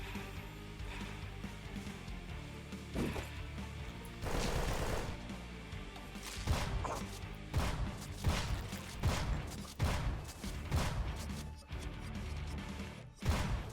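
AK rifle fire in the video game Bloodhound, with dense bursts of automatic shots and heavy impact crashes packed over a constant loud game background, continuing almost without pause.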